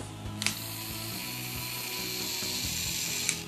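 Small motorized hobby drill used for drilling holes in model kits, running with a high continuous whine and steady mechanical ratcheting hum up close, starting with a brief click and holding level throughout.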